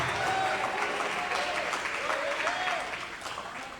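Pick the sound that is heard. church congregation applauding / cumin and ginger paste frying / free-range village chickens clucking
church congregation applauding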